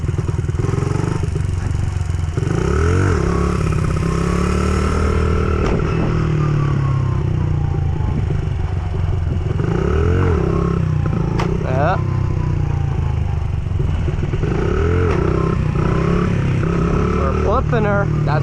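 A stunt motorcycle engine rises and falls repeatedly as the throttle is opened and eased off during wheelie practice, loud and close with a rider speaking over it.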